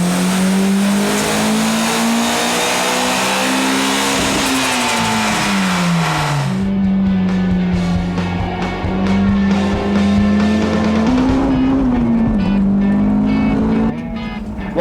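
Turbocharged Greddy Honda S2000 driving hard on the streets of Willow, a loud sustained engine drone rising and falling in pitch through gear changes, steady and close throughout.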